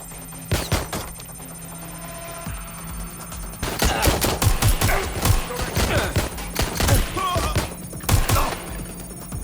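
Gunfire in Watch Dogs Legion, with a few early sharp shots followed by dense, rapid automatic bursts that crack loudly and close for several seconds, pausing briefly before another volley.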